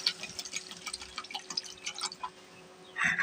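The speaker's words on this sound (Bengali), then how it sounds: "এখন পরিমাণ মতন পানি দিয়ে দেব।" Water is added to a cooking pot of fried ginger and garlic for a curry of jackfruit seeds, taro stolons and dried fish, giving a steady close splashing and dripping that swells into a brighter burst at the end.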